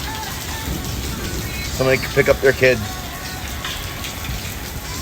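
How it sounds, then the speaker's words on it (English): Rain pours steadily during a thunderstorm outdoors near a convention center, a constant wash of noise, while a voice speaks briefly over it. "I really want to get in the rain."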